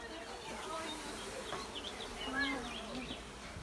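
Honeybees buzzing faintly around a hive on a beekeeping farm, a soft steady drone with scattered higher whines of passing insects under low background hiss.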